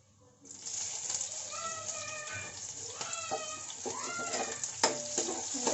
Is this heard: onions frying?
yes